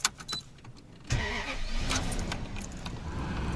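A Toyota Century engine cranks with a few clicks, catches abruptly, and runs on at a steady idle, close by.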